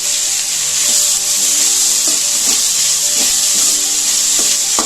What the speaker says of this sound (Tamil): சேர்த்துட்டு இதையும் ஒரு 3 நிமிஷத்துக்கு வதக்கிக்குவோம்.